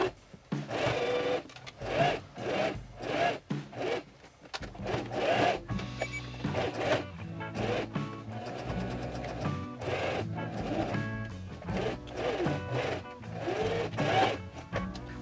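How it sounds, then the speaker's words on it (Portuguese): Sewing machine stitching a seam along a fabric face mask, close rapid mechanical whirring in repeated bursts with brief pauses between runs. "Vamos passar essa costura então."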